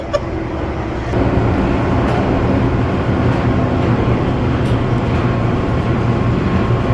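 An airport terminal tram at Minneapolis–St. Paul International Airport rumbles and rattles along its track, a steady loud mechanical drone with faint clicks and squeaks, heard from inside the moving car.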